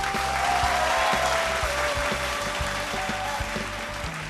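A studio audience at a televised singing contest claps for a departing contestant, a sustained wash of applause over a low rhythmic musical bed that continues under it.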